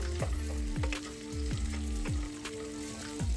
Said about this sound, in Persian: و هم میزنم و میذارم تا گوشتم یه تفت خیلی مختصری بخوره